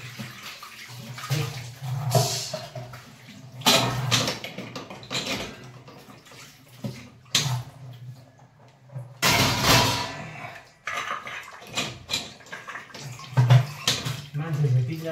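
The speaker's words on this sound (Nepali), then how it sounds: "भाँडा धुनु परेको" Dishes are washed under running water in bursts of splashing and rinsing, with clinks of utensils and a person talking between the splashes.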